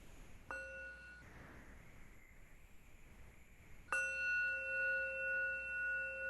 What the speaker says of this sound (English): I'd just like to invite one sound of the bell